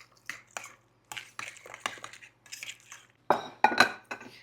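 A utensil stirs Italian seasoning into a mixture in a bowl, giving irregular scraping and clinking bursts of varied loudness close by, with a louder cluster of clinks near the end and no talk.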